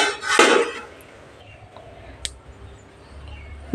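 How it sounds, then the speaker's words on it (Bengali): A metal lid lifts off a steaming pot of dates on a gas stove, giving a short clatter near the start, then a quiet hiss and a small tap, and another brief knock at the end. "ঢাকাটা তুলে দিলাম আস্তে করে।"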